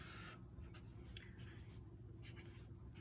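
A marker scratches across a board in short, quick strokes while a parabola is sketched, faint and close with a steady rhythm of drawing.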